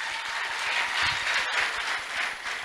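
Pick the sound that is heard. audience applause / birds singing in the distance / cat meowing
audience applause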